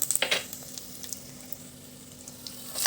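Cumin, mustard seeds and dried red chillies spitting in hot oil, a few sharp crackles and pops at the start, then a quieter steady sizzle with occasional light pops.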